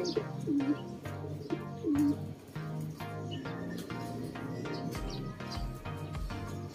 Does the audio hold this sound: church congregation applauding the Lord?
no